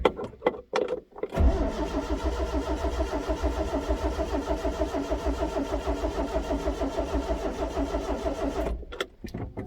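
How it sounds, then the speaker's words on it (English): A Datsun car engine with a freshly rebuilt carburetor cranks briefly with a few sputters, then catches and settles into a steady, close mid-pitched idle that cuts off near the end. "Shouldn't take all too long to start up once fuel gets into the carburetor."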